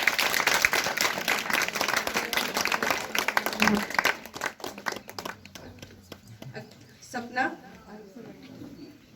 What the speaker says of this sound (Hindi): और बच्चे आप तालियां बजाते रहिए।